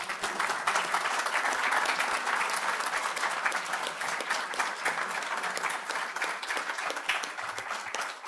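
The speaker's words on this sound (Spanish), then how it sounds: "Pido que recibamos con un caluroso aplauso a Porfirio Muñoz Ledo." Warm applause from a political gathering audience welcoming Porfirio Muñoz Ledo, a dense, sustained clapping crowd holding steady throughout and tapering slightly toward the end.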